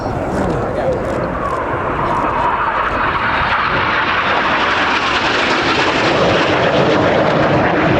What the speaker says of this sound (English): Each pair will now dive down to only 100 feet above the airfield.